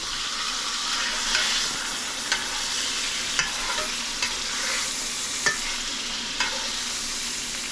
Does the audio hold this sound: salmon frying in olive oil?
yes